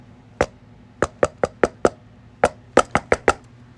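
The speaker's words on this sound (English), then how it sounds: "You heard countless knocks on repeat outside of your door." Repeated knocks on a front door from outside, a dozen sharp raps in irregular clusters of two and three, loud and close with no talking.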